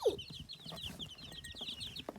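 Small Ameraucana chicks, the blue-and-green-egg laying breed, chirp and cluck nearby in quick, high repeated peeps over a low background murmur.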